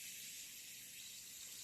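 Fizzing crackle of a bath bomb dissolving in bathwater, a steady bright hiss with fine popping that holds evenly throughout, close and fairly quiet, with no talking.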